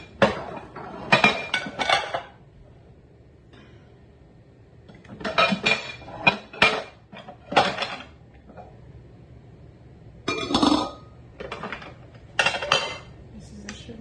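Metal pots and pans clink and clatter in short clustered bursts as shrimp go into a cooking pot, with quiet pauses between the handling noises.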